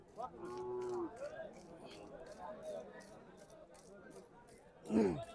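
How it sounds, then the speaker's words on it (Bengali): Cattle at a village cattle market in Cumilla moo in long, drawn-out calls, one early and a louder one near the end, with people talking nearby. "এই লাইনে হচ্ছে বিশাল বিশাল গরু আছে এই যে এই লাইনে।"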